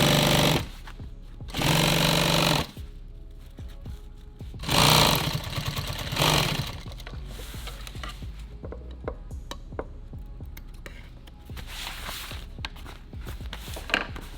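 A sewing machine stitching nylon tactical gear runs in three loud, close bursts of fast rhythmic needle hammering, separated by pauses filled with softer handling noise and small clicks as the work is adjusted.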